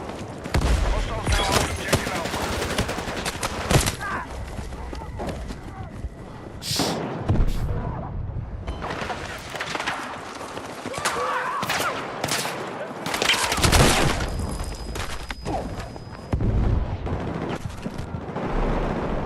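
Grenade launcher blasts and gunfire from a Battlefield match, repeated heavy bursts and thumps spread across a dense, loud battle mix, with a voice talking over parts of it.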